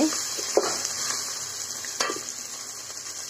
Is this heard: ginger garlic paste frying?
yes